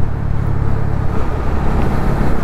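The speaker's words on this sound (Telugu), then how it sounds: "ఫుల్ ట్రాఫిక్ ఉంది ఇవాళ" Heavy holiday road traffic creates a dense, continuous rumble of passing vehicles, loud and steady throughout with no talk.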